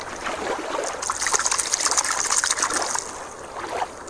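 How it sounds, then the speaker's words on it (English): A toy sea turtle is dropped back into water, giving a steady run of close splashing and trickling that lasts throughout with no talking. "Let's put the sea turtle back in the water."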